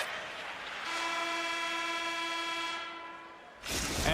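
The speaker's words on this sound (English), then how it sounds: "there's the horn bringing the second period to an end" A long, steady horn blast signals the end of a period in an ice hockey video game, sounding loud and sustained for about two seconds over low arena crowd noise.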